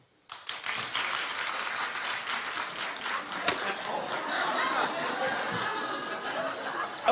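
A television studio audience claps and laughs in a dense, sustained burst of applause that begins abruptly and carries on loudly throughout.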